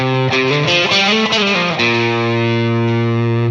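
An electric guitar plays a short distorted riff, then holds a sustained chord, each note trailed by a quick slapback echo.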